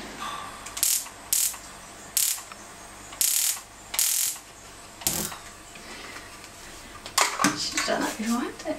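A kitchen stove being lit before a pan goes on for an omelette: repeated sharp ratcheting igniter clicks in short bursts, close and fairly loud, followed by soft clattering of cookware.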